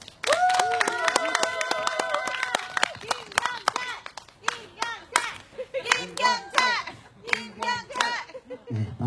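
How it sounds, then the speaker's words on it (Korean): A crowd at a candlelight rally in Seongju claps to welcome a speaker, with sharp, fairly rhythmic hand claps running throughout under a voice amplified over a loudspeaker. "우리 김경철님 큰 박수로 모시겠습니다."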